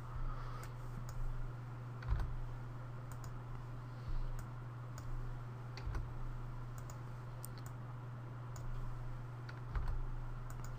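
Sparse, sharp computer mouse clicks spaced irregularly over a constant low electrical hum, with a few soft thumps between them and no speech.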